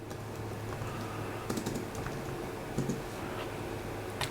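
Fingers type on a computer keyboard in a quick, uneven patter of light clicks, with a few louder clusters of keystrokes, close and steady throughout with no talking.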